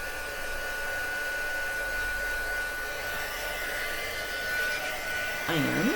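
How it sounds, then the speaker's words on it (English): A heat gun blows hot air in a steady, loud whirring hiss that holds constant throughout, with a slight shift in pitch near the end. "So, heat gun, need to warm that up."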